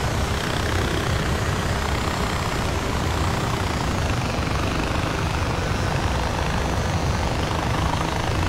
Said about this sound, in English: these choppers are awesome, man. They really make getting around much easier.